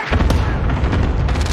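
Cluster strike explosions in a video game boom in a quick, dense volley of heavy, rumbling blasts, loud and close, over a brief stretch.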